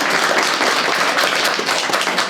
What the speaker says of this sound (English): I came just for the applause.